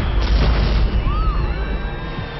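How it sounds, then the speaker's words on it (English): A cache of fireworks explodes in a chain reaction at the Tultepec fireworks market, heard as a loud, unbroken rumbling roar of overlapping blasts and booms with no pause throughout. "A cache of fireworks has ignited, setting off a destructive chain reaction."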